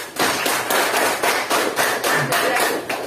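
A class of students claps hands together in a steady, rhythmic pattern of sharp, evenly spaced claps, loud and close in the classroom, with no talking over them.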